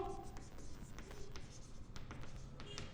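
Chalk or marker writing out a final answer on a classroom board during an accountancy lesson, a run of soft scratchy strokes and taps with a faint voice in the background.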